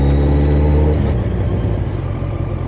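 Motorcycle engine rumbling while riding on a first spring ride near Theux and Spa, a deep steady drone, loud and close, with a strong low hum for the first second before it roughens slightly.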